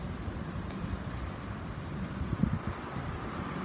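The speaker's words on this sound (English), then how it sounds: "Windy day today." Wind gusting beside a river in London, a steady low buffeting rumble across the microphone that swells briefly near the end, with no voices.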